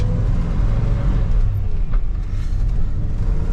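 A 1985 Chevrolet Suburban squarebody with an NV4500 manual transmission and 4.10 gearing pulls away in second gear: a steady, loud low engine drone with road rumble, heard from inside the cab and holding throughout.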